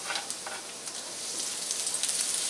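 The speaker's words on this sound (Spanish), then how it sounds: "vamos a poner a freír primero que nada nuestro ajo para perfumar nuestro aceite" Garlic fries in hot oil with a steady, close crackling sizzle and scattered sharper pops, continuous and without any voices.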